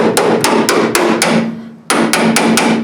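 A hammer strikes a chisel to separate a classic Mustang fastback body panel, giving sharp, loud metallic blows at a steady rhythm. They pause briefly, then resume with four more evenly spaced hits.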